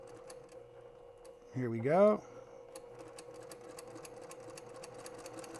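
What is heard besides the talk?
sewing machine stitching quilt pieces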